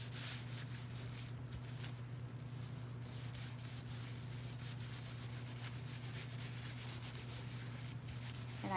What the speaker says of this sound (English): so I can just rub it down